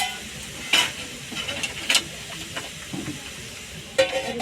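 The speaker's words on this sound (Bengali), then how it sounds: "ঘি দিয়ে প্রথমে আমি ভালো করে গাজরটাকে ভেজে নিয়ে নেবো।" Carrots fry in ghee with a soft continuous sizzle, broken by several sharp scraping strokes of a spatula against the pan, close by.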